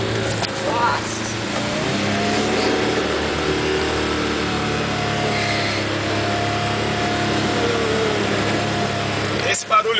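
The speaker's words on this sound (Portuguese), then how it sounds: "Esse barulho todo aqui é que a gente tá derrapando" Loud, sustained engine drone of a Mitsubishi L200 rally car straining as its wheels spin and skid in mud, with steady revving throughout and voices talking over it.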